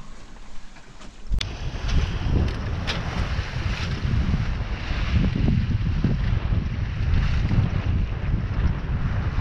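Wind rushes over a Kelt 760 sailboat at sea, a broad gusty roar with buffeting against the microphone and water washing along the hull, loud and continuous after a quieter opening second, with no talk.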